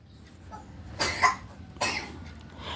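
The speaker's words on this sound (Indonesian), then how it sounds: "Anak saya batuk" Two separate coughs from a child about a second apart, the first a brief double burst, heard close in an otherwise quiet room.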